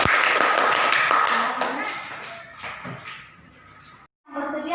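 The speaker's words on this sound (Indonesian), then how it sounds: "Tepuk tangan." Students in a classroom clap their hands in a brief burst of quick, uneven applause that fades out, with voices talking over and after it.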